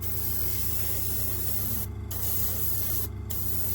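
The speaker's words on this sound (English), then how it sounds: "spray that with a green" A continuous close airbrush hiss sprays green paint steadily on a model railway piece, briefly cutting out twice for a moment before resuming.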